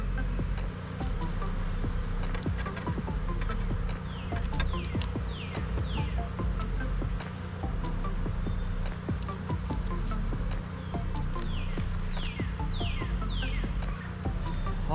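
A close, continuous hum of honeybees circling an open hive being requeened, with single bees buzzing near and away in passing sweeps and no voices.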